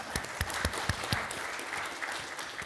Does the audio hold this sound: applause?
yes